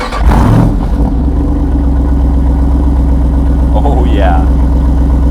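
A Jeep 392 V8 fires up with a burst of starter and exhaust, then settles into a loud, steady rumbling idle close by, with a person speaking briefly over it.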